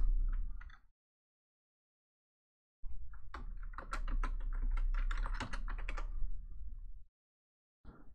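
A domain admin password is typed on a computer keyboard: a close, fairly loud run of rapid clicking keystrokes lasting about four seconds, with a short earlier burst and a brief final tap between silences.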